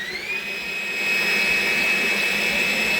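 A Kyowa 7-liter stand mixer with a stainless steel bowl runs at high speed, a loud, steady whine whose pitch climbs as the motor ramps up, then holds constant and close.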